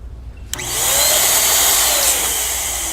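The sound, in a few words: electric balloon inflator machine running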